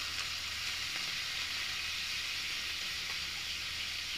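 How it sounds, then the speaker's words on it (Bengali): Food frying in hot oil, with a steady, dense sizzle and crackle that holds close and even throughout, with no talk. "তেলটা গরম হয়ে গেছে, আমি এখন গগলিকা দিয়ে নেব।"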